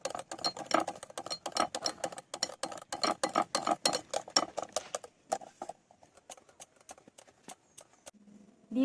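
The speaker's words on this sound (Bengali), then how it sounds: "খুব ভালো করে আর একবার ফেটিয়ে নেব।" A whisk beats red velvet cake batter in a bowl with quick, rhythmic metallic clicks, steady and close for several seconds, then slowing to sparser taps before a short scrape at the end.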